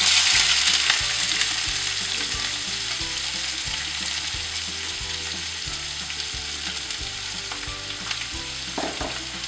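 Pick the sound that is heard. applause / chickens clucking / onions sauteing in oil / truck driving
onions sauteing in oil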